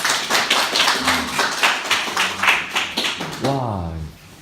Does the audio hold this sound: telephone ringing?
no